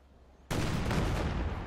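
A sudden loud blast from Yaktiga artillery in Company of Heroes 2 erupts after a quiet moment, then holds as a dense rumbling roar of explosion and battle noise.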